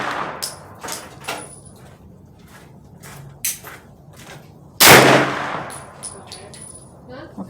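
A single loud, close gunshot from a 9mm carbine cracks out at an outdoor shooting range, with fainter shots from neighbouring lanes popping irregularly before and after.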